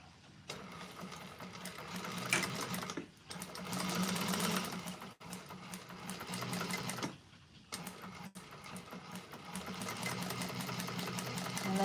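A sewing machine stitches a bag exterior in several quick whirring bursts separated by short pauses, with a rapid mechanical chatter at close range and no speech.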